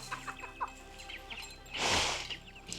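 A rooster crows once, loud and close, in a rural mountain village, with other birds chirping faintly around it and no talk.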